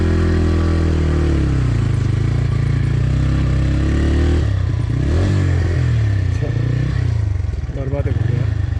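A motorcycle labours along a rough, dangerous road: the engine drones loudly and steadily, then the tone shifts and rattles and clatters break in as the bike jolts over the uneven ground.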